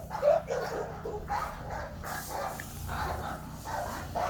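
Several dogs bark repeatedly nearby in uneven bursts over a steady low hum, with some yips and whimpers mixed in.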